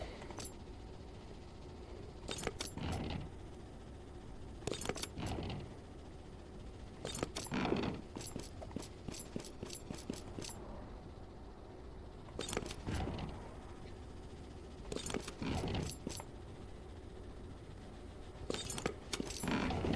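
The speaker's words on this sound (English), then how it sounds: "Now what you need to do is to use the lockpick to open the crates." Lockpicking and crate opening during a train robbery in the video game Pax Americana: repeated bursts of metallic jangling, clicking and clinking in irregular clusters over a low background rumble, with no talk.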